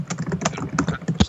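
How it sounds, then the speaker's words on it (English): Rapid keystrokes clatter on a computer keyboard, an uneven burst of clicks and taps close to the microphone, with a sharper thump near the end and no voices. "like stop typing while he's talking."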